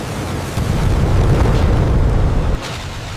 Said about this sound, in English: The missile launches straight toward Billy Bob's aircraft